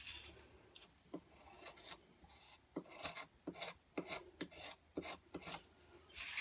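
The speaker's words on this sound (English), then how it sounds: "all those chop marks that we've created with the bandsaw, we can just smooth them out with your straight knife" A straight knife scrapes and rasps across a carved wooden rattle, smoothing out bandsaw chop marks in short, close, repeated strokes.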